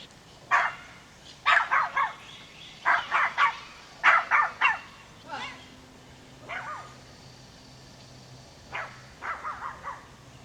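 Dogs outdoors in a fenced yard give repeated quick bursts of barks and yips in clusters of three or four. Sparser, fainter barks follow later, and the sound is mid-distance and moderately loud.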